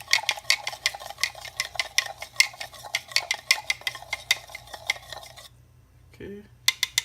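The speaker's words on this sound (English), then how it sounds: "giving the yeast another little mix here" Yeast mixture for pizza dough being stirred in a bowl: quick, steady clinking strokes for about five seconds, then near silence with a brief soft knock.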